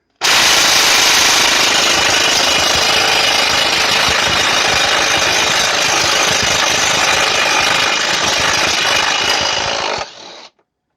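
LIDL impact wrench loosening a tight nut, a loud continuous rapid hammering rattle for about ten seconds that cuts off abruptly, close and alone.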